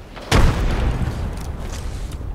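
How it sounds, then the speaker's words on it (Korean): Frag grenade exploding in Apex Legends: one sharp, loud boom lands early and leaves a long rumbling tail that fades slowly. "파편 수류탄 던진다."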